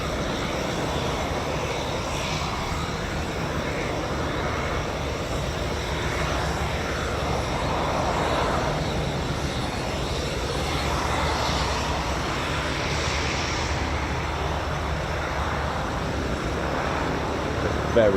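A turboprop aircraft with a PT-6 engine at RAF Fairford, its steady propeller drone and engine whine carrying for the whole stretch, moderately distant and level, with wind and faint crowd ambience around it.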